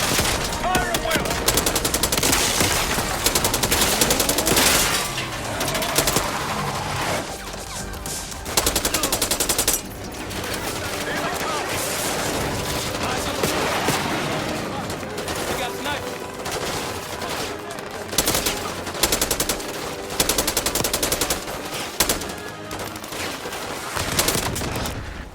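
Sustained automatic gunfire and rapid shots from a Call of Duty Black Ops 6 campaign battle, loud and dense throughout with brief lulls, under shouted squad voices.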